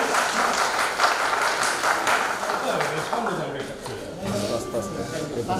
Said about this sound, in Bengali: তার জন্য আমরা আরেকটা জোরে করতালি চাচ্ছি